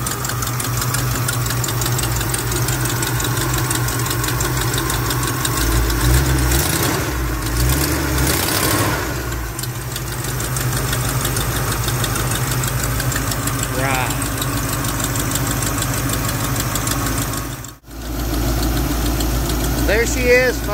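A 1976 Ford F250 truck engine idles steadily at close range, a continuous low rumble with a knocking texture running through the whole stretch, briefly cut near the end, with people talking over it.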